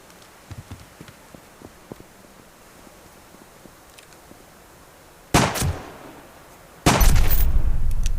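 Two gunshots in the video game Subsistence, sharp loud reports several seconds apart, the second followed by a sustained rumble, over a quiet outdoor background with faint clicks.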